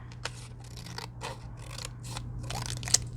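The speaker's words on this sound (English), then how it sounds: "so this I'm going to take, and I'm going to cut it right up the center." Material for a barn door flip project being cut up the center, heard as a run of close, brisk snipping and scraping strokes over a steady low hum, with one sharp click near the end.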